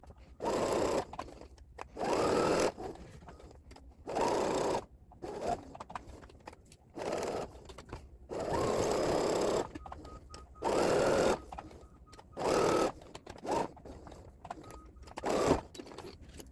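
A sewing machine stitches a felt snowflake ornament in repeated bursts of rapid whirring, each lasting a second or two, separated by short quiet pauses, close and clear.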